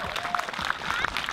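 Brief burst of audience applause at a children's camp event: lively clapping from a group, moderately loud and steady for a moment, with some faint voices and high squeals mixed in.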